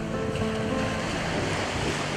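Ocean waves washing onto a beach, a continuous rolling surf roar with wind noise, steady and fairly faint throughout.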